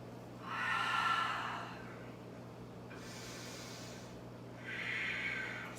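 Slow, deep breaths drawn in and pushed out through the nose during a held yoga pose, three soft airy swells separated by quiet gaps, close and alone over a faint steady hum.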